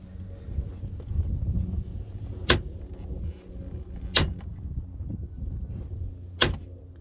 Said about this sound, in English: When you open and close the door, it makes that awful sound.